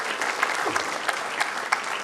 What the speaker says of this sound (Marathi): मला वाटतं त्याच्यासाठी एकदा टाळ्या व्हायला पाहिजेत.